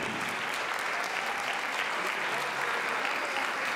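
An audience at an anniversary concert applauds a vocal-instrumental band with steady, even clapping from many hands that holds at the same level throughout.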